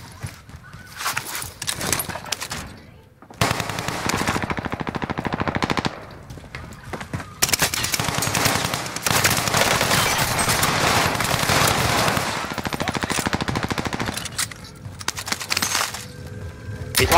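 Sustained automatic gunfire and bursts of shots in a Warzone Rebirth battle royale match, loud and dense across most of the clip with brief gaps, plus hoof-like clatter.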